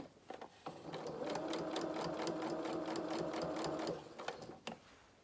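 A domestic sewing machine stitches fabric for a stuffed toy's body and limbs, with a fast, even mechanical whir close by for about three seconds. A few clicks and handling taps come before and after it.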